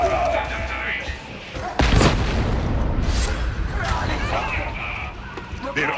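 A tracking grenade blows up in a video game with a loud booming burst that sits among other in-game blasts and rumbling, while a player talks over the action.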